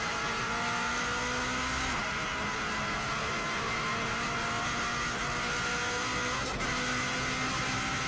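Subaru Impreza racing flat out at around 170 mph on the Isle of Man road course, with a loud, steady engine drone and faint rattles as the car bounces over bumps, no voices.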